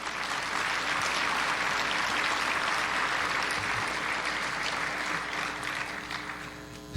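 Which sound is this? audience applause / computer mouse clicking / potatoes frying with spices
audience applause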